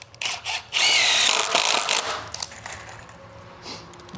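A power drill whirs in short bursts, driving screws into a wooden chicken coop board, one long loud run followed by lighter taps and handling clatter, close by and without talk.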